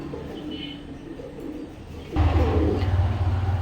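Low, throaty pigeon cooing swells up partway through, with faint rustling and a brief chirp earlier on.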